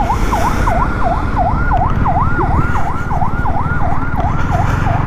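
An ambulance siren on the road wails in rapid, steady repeating cycles, loud and continuous over a low rumble of road and engine noise.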